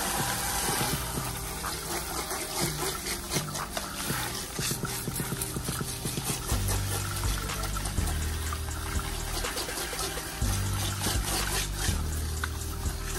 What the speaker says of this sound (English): She waited for the water to warm up.